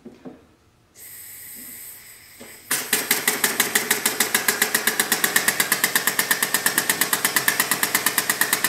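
A model Lister D engine with a cast iron piston and leaded steel crankshaft runs on compressed air at about 120 psi, opening with an air hiss before settling into a loud, rapid, steady mechanical chuffing beat.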